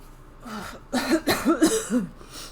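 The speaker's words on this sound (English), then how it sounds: "he gives a few rattling coughs." A voice lets out a short string of raspy, throaty coughs, four or five bursts in quick succession, close and fairly loud.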